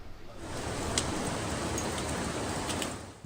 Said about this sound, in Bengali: মেঘ থমথমে আকাশ, অবিরাম বৃষ্টি, সঙ্গে ঝোড়ো হাওয়া।